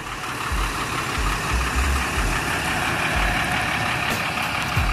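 A red Chevrolet C4 Corvette idles close by, a steady low engine rumble with a continuous throbbing beat and no speech over it.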